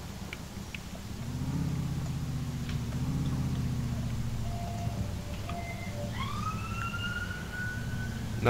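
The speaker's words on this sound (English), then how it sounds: "that's an ambulance passing Migo's house" An ambulance siren passes in the street outside, rising and wailing at moderate distance over a low engine rumble, its pitch sweeping upward near the end.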